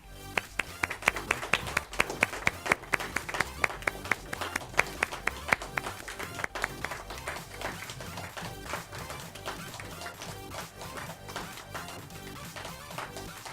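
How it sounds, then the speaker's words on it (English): Audience applause at a college fall fashion show, honoring the models: dense, crisp clapping from a sizeable crowd, strong and steady throughout with sharp individual claps standing out near the front. "Let's just give one more round of applause for all the models here today."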